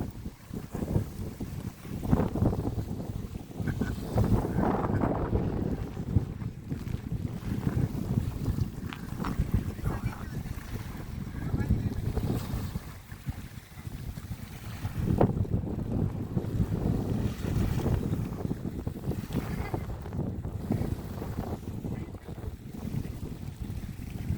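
Gusty wind buffets the microphone continuously outdoors by the water at Ski Beach Park, Big Bear, with a low rushing roar rising and falling in strong bursts.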